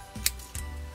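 Scissors snipping through a paper strip while making a quilled great tit bird, with two close, short cuts plus a faint tick, heard alone.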